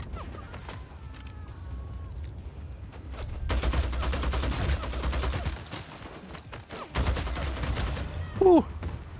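Gunfire in Vampire: The Masquerade – Bloodhunt, a sustained rattling burst of rapid shots at moderate distance, followed by scattered single cracks and a short louder blast near the end.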